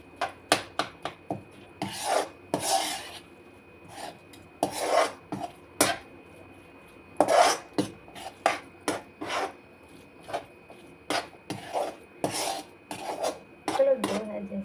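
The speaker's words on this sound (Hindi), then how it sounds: "तो मैं कढ़ाई में मिक्स कर लेती हूँ" Food being mixed in a kadhai, with a utensil scraping and rubbing against the metal pan in irregular strokes and occasional sharp taps, close by and without talking.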